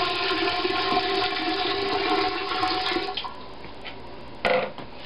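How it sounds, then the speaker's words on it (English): Water is poured into a corny keg to rinse it, giving a steady hollow rush for about three seconds. Quieter trickles follow, then a brief splash near the end. "I'm just going to get some more water and give it another rinse."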